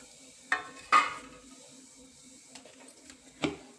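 Chopped onion and green chilies drop into a hot pan while making pithla, giving a few sharp sizzling bursts followed by quieter frying and light stirring clinks.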